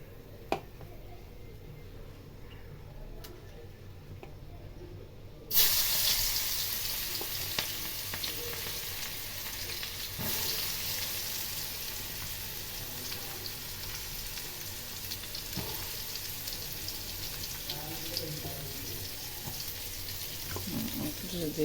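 Onions frying and sizzling in a pan for a Bengali home-cooked dish, a steady hiss that swells abruptly louder partway through and then holds, with faint clinks and stirring over the constant crackle.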